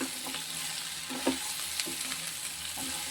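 Sliced bitter gourd and plenty of onion sautéing with turmeric and salt in a pan: a continuous close sizzle broken by occasional light scrapes and taps of the stirring spoon, with no voices.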